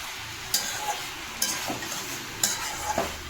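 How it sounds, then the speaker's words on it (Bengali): Fish curry being stir-fried in a pan, cooked down without onion or garlic: a soft, steady sizzle with a few sharp scrapes of the spoon against the pan, heard close and alone. "এটা আমি কষে কষে কত সুন্দর একটা তরকারি করবো"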